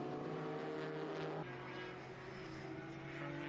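A Nissan 200SX race car runs flat out down a circuit straight into the first turn, its engine a sustained, fairly faint drone that shifts pitch abruptly partway as it passes, heard from a distance.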